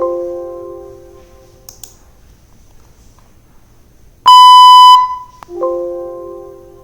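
A Python PyQt5 alarm clock app sounds its alarm, clear electronic tones that come in separate bursts with silent gaps between, one louder, brighter burst partway through, heard up close with no talking.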